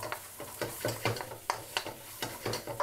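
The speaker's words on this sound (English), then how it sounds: "leave this just to sizzle a little bit" Tomato puree sizzles and is stirred in a very hot pan for a rogan josh, with soft, rhythmic scraping strokes and a faint crackle heard close up.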